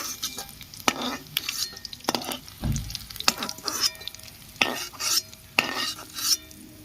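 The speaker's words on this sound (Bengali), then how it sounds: "কিভাবে বাদবাকি বড়াগুলো ভেজে নিচ্ছি" Fish fritters sizzle in hot oil, broken by repeated scraping strokes of a utensil stirring against the pan.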